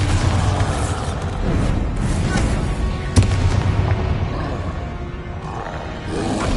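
The Bombarda explosion spell in Hogwarts Legacy, a loud, dense blast with a sharp crack at its peak and a rumbling, roaring body that fills the whole stretch.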